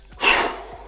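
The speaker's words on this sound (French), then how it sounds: "Là, vous allez faire 2 inspirations courtes par le nez et 1 expiration forte par la bouche" A single forceful breath bursts out, a short loud rush of air that fades over half a second, with faint quieter breath sounds before and after, in a dynamic breathing exercise of short nasal inhales and a strong mouth exhale.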